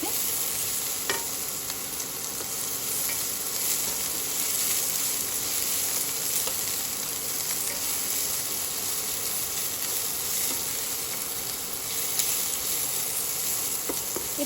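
Onions sizzle in a pan over raised heat as they brown lightly, a steady close hiss with faint stirring scrapes and no talk.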